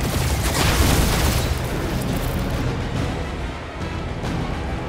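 Heavy gunfire and explosions in the Guardians of the Galaxy video game, a loud, dense, continuous wall of booms and blasts that barely lets up throughout.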